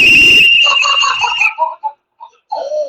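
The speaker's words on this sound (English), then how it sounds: "I'm blowing my whistle." A shrill whistle blows steadily for about a second and a half, followed by a few short, fainter warbling toots.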